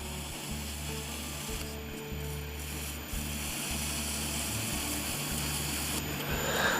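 Steady, close rubbing and sanding of a burl and resin shaving brush handle runs continuously, with a faint rhythmic mechanical hum beneath it and no talking.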